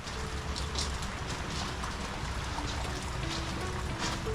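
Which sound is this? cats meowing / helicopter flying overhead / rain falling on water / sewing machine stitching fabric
rain falling on water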